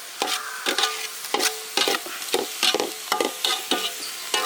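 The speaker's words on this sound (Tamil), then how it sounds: "பச்சை வாசனை போகிற அளவுக்கு வதக்கிக்க." Ginger garlic paste and green chillies sauté in a pan, with a spatula scraping and stirring in quick, regular strokes over a light sizzle, close and fairly loud.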